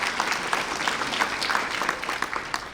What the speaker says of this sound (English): Please give a loud round of applause to this year's runner-up, Cade Stephenson.